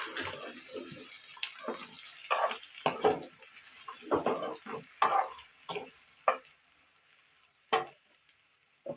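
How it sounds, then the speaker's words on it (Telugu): Ridge gourd pieces stirred into fried onions in a pan, a spoon scraping and tossing in uneven bursts over a continuous soft sizzle. "ముందుగా కట్ చేసి పెట్టుకున్న బీరకాయ ముక్కలు వేసేద్దాం ఇప్పుడు కలుపుకుందామండి"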